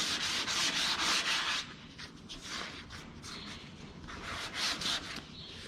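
Hand wet sanding with sandpaper on the body of a Chevrolet Biscayne gives rhythmic, faint rubbing strokes, steady and close, with no voices.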